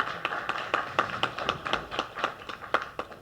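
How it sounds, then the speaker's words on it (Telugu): Hand claps from an audience at a Telugu movie title announcement event, a sparse, fairly rhythmic run of distinct claps close to the microphone rather than a full roaring applause. "I request you to give a big clap to this umpire."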